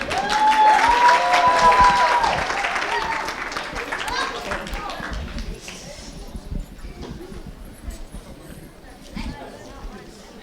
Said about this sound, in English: Let's have a round of applause for Rihanna